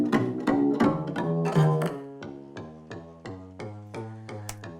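Jazz walking bass line in a swung track with a stepping groove and drum kit: a steady pulse of plucked bass notes under sharp cymbal or snare hits, busier chords early on, moderately quiet with no voices.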